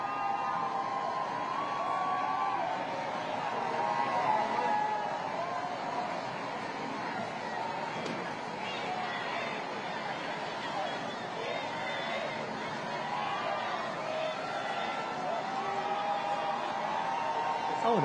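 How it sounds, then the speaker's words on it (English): Large crowd in central Lisbon outside the presidential residence cheering and chattering as Pope Francis arrives for World Youth Day, a steady distant roar of voices and shouts running throughout. "You can hear the crowds cheering in the background."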